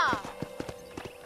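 Horse hooves clip-clopping at an even walking rhythm in Red Dead Redemption on a ranch, with a brief whinny at the start and a soft steady hum underneath.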